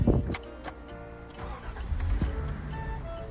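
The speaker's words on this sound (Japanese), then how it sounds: "じゃあエンジン始動していきます" A 38-year-old Toyota Crown with under 10,000 km starts up close: a short burst of starter cranking, the engine catching with a rev, then settling into a steady idle.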